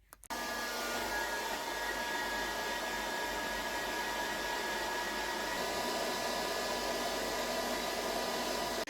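A heat gun blows steadily on hiking sticks that are being straightened, a loud, constant whooshing roar with a faint tonal whine that starts abruptly and runs unbroken.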